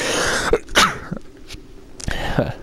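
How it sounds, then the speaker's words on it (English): A single sharp sneeze bursts out up close, followed by a brief throat-clear; no talking. "I'm about to sneeze."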